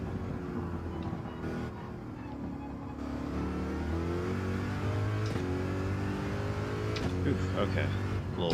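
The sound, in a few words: race car engine revving in the video game Gran Turismo 7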